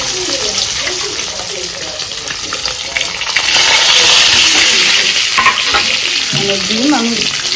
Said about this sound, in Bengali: আর এই যে তেল গরম হয়ে গেছে, এখন আমি ডিম দিয়ে দেবো।